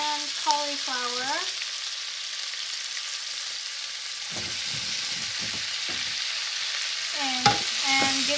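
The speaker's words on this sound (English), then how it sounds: "give it a quick stir" Potatoes and cauliflower for aloo gobi are stirred in a frying pan, giving a low sizzle with a run of short scraping strokes in the middle; brief high tonal chirps sound at the start and end.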